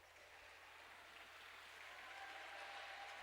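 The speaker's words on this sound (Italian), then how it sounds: "Applausi da parte del pubblico." Crowd applause at a Serie A futsal match, a steady distant wash of clapping from spectators in an indoor arena, faint and continuous with a slight swell toward the end.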